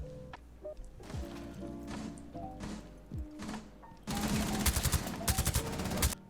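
Gunfire in Rainbow Six Siege comes as scattered single shots and thuds, then a dense, loud burst of rapid automatic fire near the end.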